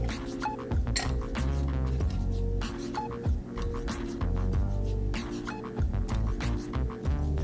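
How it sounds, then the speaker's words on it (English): Repeated bright clinks and clatters of crushed ice packed into a cocktail glass, close and fairly loud, coming in irregular bursts over a low steady background. "So I'm going to pack fresh ice on top."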